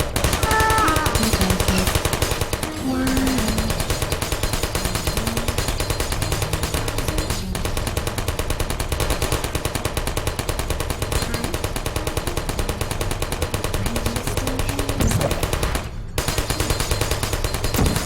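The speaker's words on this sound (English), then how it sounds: "Those gun turrets are the same as something else in the game as well." Gun turrets in the Portal video game fire continuously in a dense, rapid mechanical rattle, loud and unbroken for the whole stretch apart from a few brief dips.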